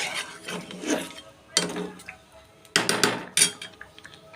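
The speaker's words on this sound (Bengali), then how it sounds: "তারপরে একটু নেড়ে আবার লো ফ্লেমে একটু কুক করব" A spatula scrapes through chicken masala in a pan over a low flame, making a few close metallic scraping and clattering strokes in short bursts.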